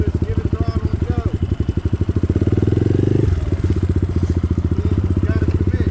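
Enduro motorcycle engine accelerating on a downhill run in the rain, a loud, close, steady throttle drone with rapid firing pulses that dips briefly midway, then picks back up.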